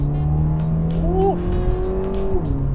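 A 2023 Subaru BRZ with an automatic gearbox revs on a downshift while driving onto a toll road, a loud, steady engine drone rising sharply in pitch around the middle, then settling back into a sustained cruising note.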